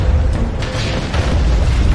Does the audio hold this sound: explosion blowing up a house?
yes